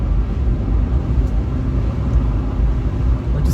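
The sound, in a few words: Fiat 500 Hybrid car noise while driving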